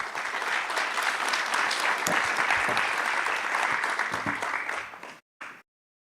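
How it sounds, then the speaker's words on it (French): Audience applause at an event presenting patient-experience survey results, a steady, dense wash of clapping from a large room that holds for about five seconds, then fades and cuts off. "Je crois qu'on peut les applaudir."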